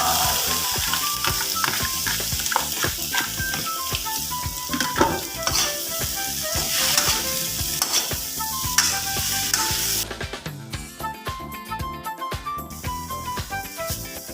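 Vegetables sizzle loudly in a hot pan for a simple home-style dish, with frequent clattering stirs and scrapes of a utensil against the pan. A brief drop in level comes near the end, and no one speaks.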